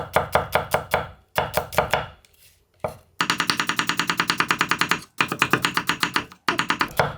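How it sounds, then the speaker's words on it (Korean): A knife thinly slices a fresh new onion on a cutting board in fast, even bursts of crisp taps, with brief pauses between runs, close and loud. "아주 곱게 편썰게 했어요"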